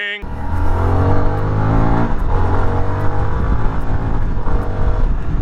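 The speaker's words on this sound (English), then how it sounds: "if I just dump the clutch right here and I'm in second from a roll, it doesn't skid that back tire" A motorcycle in second gear pulls away from a roll after the clutch is dumped, its engine a loud, close, steady droning roar that holds throughout without pause.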